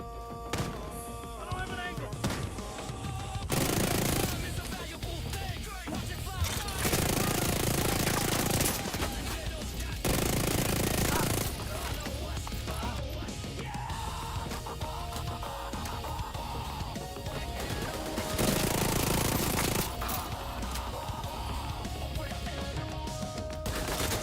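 Heavy gunner enemies in The Division 2 firing machine guns, long loud sustained bursts broken by short pauses, with thuds and impacts mixed into a chaotic close-range firefight.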